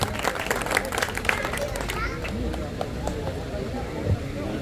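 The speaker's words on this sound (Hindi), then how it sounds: "एक जोरदार तालियों से आप इनका स्वागत करें" Crowd at a pigeon-flying prize distribution in Raebareli applauding a guest, with a dense patter of claps strongest at first and thinning out, under steady crowd murmur and voices.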